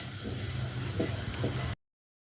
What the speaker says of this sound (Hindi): बस 2 से 3 मिनट के लिए इसे जो है ना मैंने घी में फ्राई करना है